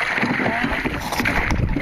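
A boat engine runs close by during an outdoor expedition on the water, a steady broadband drone with wind and splashy noise, while people talk over it.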